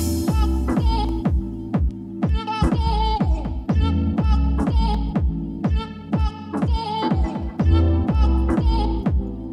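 Electronic music breakdown built from layered sample pads run through an auto filter, with steady rhythmic chord stabs and a throbbing low end, loud and continuous with no talk.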